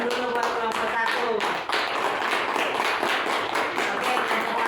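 Classroom students clapping for a presenting group, a loud dense patter of hands sustained throughout, with voices talking underneath.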